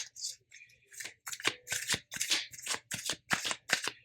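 Tarot cards are shuffled in quick repeated riffles and slaps, a crisp papery rhythm close by, with a faint low hum underneath.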